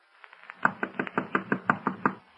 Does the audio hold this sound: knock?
yes